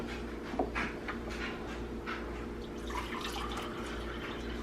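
Filtered water splashes and trickles into a bowl of sourdough ingredients, a faint, steady pour close by with a few soft drips and light clinks.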